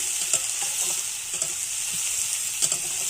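Chopped onion frying in oil in a pan for a country chicken curry: a continuous close sizzle with a few soft scrapes and knocks from stirring, and no voices.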